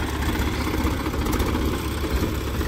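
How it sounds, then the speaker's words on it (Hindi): A Mahindra 742XT tractor fitted with a rotavator runs steadily nearby, giving a continuous low diesel rumble with a slightly uneven throb, loud and unbroken throughout. "अब ट्रैक्टर जो है घूम के इस तरफ आएगा"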